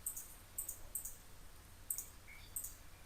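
Someone types on a computer keyboard in short, irregular bursts of light key clicks, quiet and close, with pauses between them and no speech.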